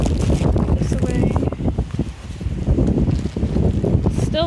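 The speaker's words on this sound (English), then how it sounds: "Still very windy" Heavy wind buffets the microphone in a steady low rumble while backpacking on the High Country Pathway, gusting louder and softer throughout with no one speaking.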